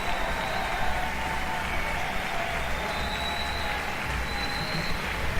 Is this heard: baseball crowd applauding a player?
yes